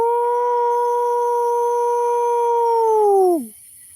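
A person outdoors near a main road lets out a long, steady howl-like call imitating a wolf, holding one pitch for over three seconds before sliding down and cutting off.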